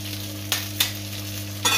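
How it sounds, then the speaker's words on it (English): Eggs dropping into oil that is not quite hot enough in a pan for a breakfast sandwich bring a steady low sizzle, with a few brief spattering bursts over a constant hum, close by and without talk. "eggs going in."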